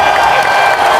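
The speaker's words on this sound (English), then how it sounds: "Big round of applause." Loud, close applause with some cheering from children and staff at a school celebration assembly, a brief dense burst of clapping and crowd noise.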